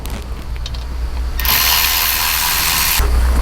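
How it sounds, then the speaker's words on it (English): A 7mm driver loosens a radiator-style hose clamp on a 2014-2017 Ram 3.0 EcoDiesel, a loud close mechanical ratcheting whir that runs low, then surges sharply for about a second and a half before a brief change, with no speech. "Now that clamp is a radiator style. You use a flat tip screwdriver, or in this case, I'm going to be using a 7mm."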